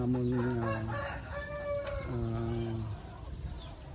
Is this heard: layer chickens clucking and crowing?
yes